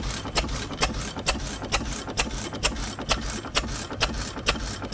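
An old engine at an autumn farm show runs at about 200 RPM, giving a steady, evenly spaced mechanical clatter with sharp regular clicks throughout, close and moderately loud with no talking.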